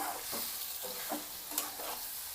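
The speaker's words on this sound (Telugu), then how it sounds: "ఈ చికెన్ బాగా వేగిపోయేటప్పటికే అవి కూడా వేగుతాయి" Chicken frying village style with onion and tomato pieces in a pan, a steady hiss of sizzling oil with soft periodic stirring scrapes, close and continuous, no voices.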